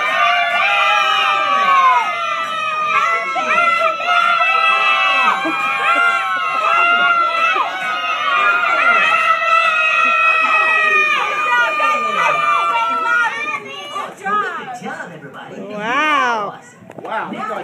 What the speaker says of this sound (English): That was a noisy crowd.